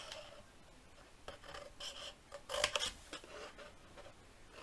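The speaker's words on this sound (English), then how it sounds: "I'm going to trim out that square" Scissors trim a square out of folded paper for a heritage mini album cover: several short, quiet rasping snips in scattered bursts, the busiest cluster near the middle, with no other sound around them.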